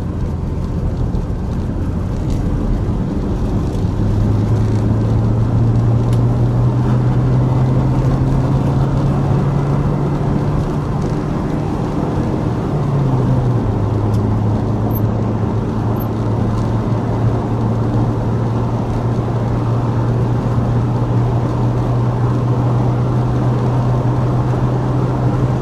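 A 1988 Ford Festiva driving along, loud steady road and wind noise filling the cabin with an engine drone underneath that rises slowly, drops briefly at a gear change, then holds steady.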